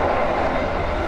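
An economy-class passenger train on the Jogja to Jakarta run gives off a steady, loud rumbling roar heard from inside the carriage, with no distinct clacks and no talking.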